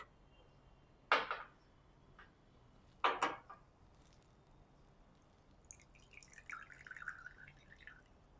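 Water from an alkaline water dispenser runs into a cup: two sharp, separate drips come first in a quiet room, then a thin, light trickle of pouring water.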